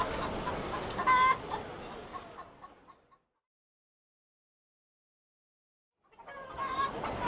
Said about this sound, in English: inspect these wattled birds. Look, mortal. Blue and white feathers.